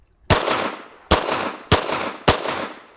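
A pistol fires four loud, sharp shots in an uneven rhythm, each with a brief ringing tail, during a muddy torture test comparing a Glock and a 1911.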